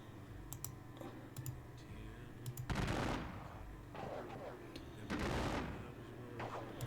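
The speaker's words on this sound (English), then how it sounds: "So we'll basically exchange gunfire with the 1st Ohio." Gunfire in a Civil War strategy game with regiments trading volleys: sharp crackling shots come in scattered clusters, with a few louder bursts of musketry, as someone speaks over the top.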